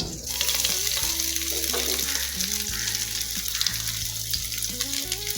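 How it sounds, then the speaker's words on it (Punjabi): Garlic and cumin roasting in home-pressed mustard oil, a steady close sizzle with occasional stirring scrapes, no talk. "ਪਹਿਲਾਂ ਕੱਲਾ ਲਸਣ ਥੋੜਾ ਜਿਹਾ ਰੋਸਟ ਕਰ ਲਾਂਗੇ"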